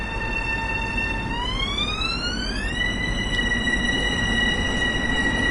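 A Long Island Rail Road train in Train Sim World runs with a constant mechanical rumble while a strong tonal whine rises in pitch in two steps, then holds steady as the train accelerates.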